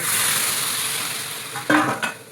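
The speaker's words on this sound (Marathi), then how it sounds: "हे दाणे त्याला भाजून घ्यायचे" Pigeon pea (tur) grains roasting dry in a pan make a steady, loud hiss, followed near the end by a few sharp scrapes and clinks as they are stirred.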